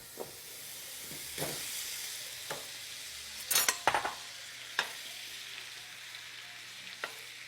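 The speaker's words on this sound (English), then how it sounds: "now we're going to be melting 2 pounds of butter" Two pounds of butter melting in a skillet over medium heat for a shrimp boil, a low steady sizzle broken by sharp utensil clicks and scrapes, including a brief cluster of clatter midway.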